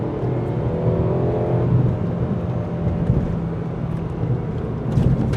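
A small car's exhaust drones steadily and close up on a countryside road, pulling evenly after a gear change, with no talking over it.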